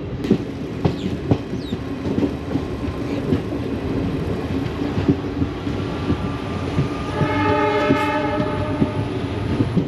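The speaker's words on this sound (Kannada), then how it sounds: "22 ನಿಮಿಷ ಡಿಲೇ ಆಗಿದೆ ನಮ್ಮ ಟ್ರೈನ್ ಈ ಸ್ಟೇಷನಲ್ಲಿ" The Mysuru–Talaguppa Intercity Express rumbles steadily along with rhythmic clatter, and a horn-like tone sounds near the end.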